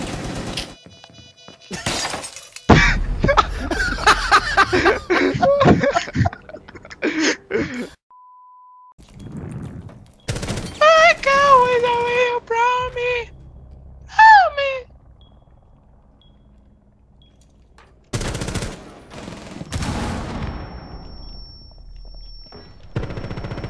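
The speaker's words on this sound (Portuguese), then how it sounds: "O Tachanka ficando dando uns tiros pra cima aleatório!" Bursts of Rainbow Six Siege gunfire crack out in short volleys, including Tachanka firing upward, between stretches of quiet, mixed with electronic beeps and other game effects.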